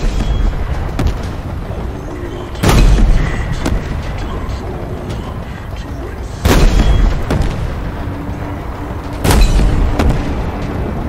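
Three heavy booming blasts from enemy fire and explosions in the Halo Infinite video game, spaced a few seconds apart over a constant rumbling battle bed, with a voice talking faintly in places.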